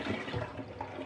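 Toilet flush: a brief, loud, close rush of churning water with no voices over it.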